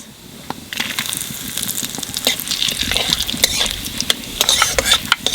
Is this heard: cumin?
yes